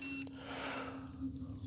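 Yu Xiang F07 UH-1D Huey RC helicopter emitting a steady electronic beep tone, close and continuous over a low hum, with a brief click near the start and no talking.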